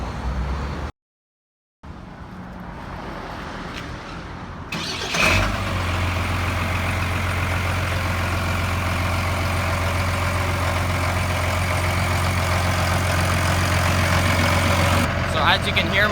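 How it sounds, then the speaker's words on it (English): Ford F350 pickup with a swapped Cummins diesel engine, a quiet stretch and a short dropout before the engine fires up and settles into a loud, steady, low rumbling idle that continues to the end. "As you can hear, my truck's running."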